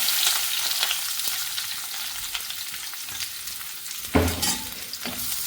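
Onions and shallots sauté in hot coconut oil for a Kerala-style chickpea curry, giving a close, steady crackling sizzle, with a spatula scrape and clink breaking through near the end.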